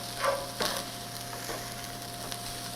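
Thawed peas stirred into frying rice, a few soft scrapes of the utensil early on over a faint, steady sizzle with a low background hum, close but quiet.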